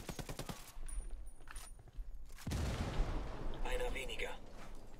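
Grenade blast and bursts of automatic gunfire in the tactical shooter Ghost Recon Wildlands, a broad loud explosion rumbling mid-clip followed by ongoing rattling fire, with game voices talking.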